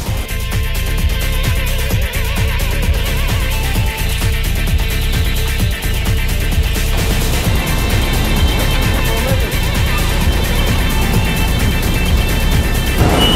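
A kiln car hauls bricks through an automated brick plant, giving a loud continuous mechanical rumble and hum with faint periodic knocks, steady over many seconds.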